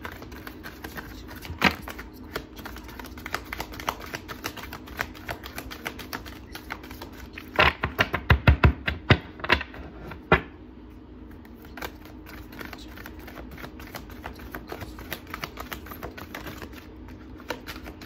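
Tarot cards being drawn and handled up close make scattered light clicks and flicks, with a brief burst of quick snapping shuffles in the middle and quiet stretches between, with no speaking.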